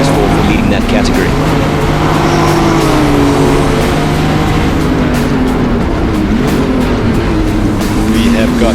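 BMW E36 328i Turbo race cars racing at Zwartkops circuit, a loud continuous engine drone with shifting pitch as cars run close by, under steady commentator talk.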